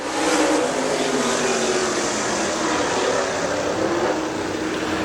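Race car at Dixie Speedway running a timed qualifying lap, a steady loud engine roar that holds throughout without breaks, heard from trackside.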